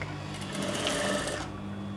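A sewing machine back tacks a gathered seam, a fast mechanical whirring run of about a second and a half that then stops, close and fairly quiet.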